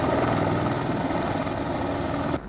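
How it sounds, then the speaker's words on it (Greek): A helicopter ferrying construction materials from a worksite to the Diktaean Cave in Crete drones loud and steady with dense rotor and engine roar, then drops off abruptly near the end. "Εντυπωσιακά πλάνα με το ελικόπτερο να μεταφέρει υλικά από το εργοτάξιο προς το Σπήλαιο."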